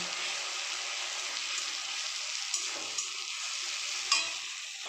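Spice paste for a chicken jhol fries in a pan, a soft continuous sizzle with occasional light scrapes and taps of a spoon stirring it.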